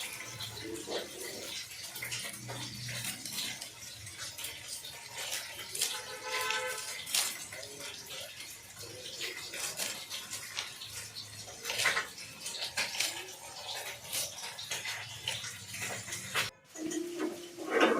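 Chopped aubergine, tomato, potato and onion greens are washed in water. The water splashes and rushes steadily and closely for the whole stretch, with small clatters now and then and one short drop-out near the end.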